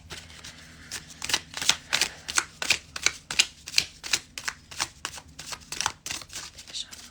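A deck of tarot cards is shuffled by hand, a quick rhythmic series of riffling bursts, close and crisp, with no talk.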